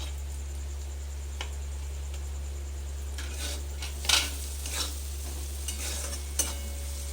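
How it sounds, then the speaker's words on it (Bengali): Fried eggplant with salt, sugar and poppy seed paste is stirred in a frying pan, giving a faint low sizzle under scattered soft scrapes and a few sharper clinks of the spatula against the pan. "দিয়ে একটু নাড়াচাড়া করে পোস্ত বাটাটা দিয়ে দিচ্ছি"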